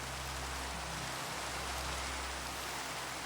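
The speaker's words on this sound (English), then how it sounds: "it started to rain" Steady broadband hiss of rainfall in Minecraft, continuous and even throughout, with a low rumble underneath and no voices.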